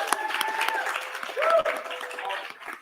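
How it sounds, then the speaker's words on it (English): Applause from an audience at an anniversary awards evening, a short burst of clapping that swells briefly midway, with a voice speaking over it. "Can we just give another round of applause?"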